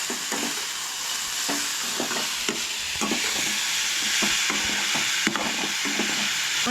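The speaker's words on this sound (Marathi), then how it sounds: "आनी ते बीन हांगसर बरें मातशें हलकेशें भाजून घ्या" Beans roasting lightly in a pan for a Goan-style mushroom gravy, a constant bright sizzle with regular scraping strokes of a spatula, close by and without talk.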